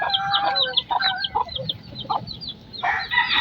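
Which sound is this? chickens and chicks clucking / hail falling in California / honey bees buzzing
chickens and chicks clucking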